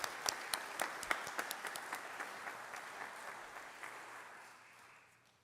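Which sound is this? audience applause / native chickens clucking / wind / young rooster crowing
audience applause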